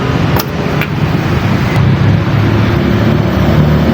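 A Megelli 250cc motorcycle engine runs steadily at close range, a loud continuous rumble with a couple of brief clicks near the start and no speech.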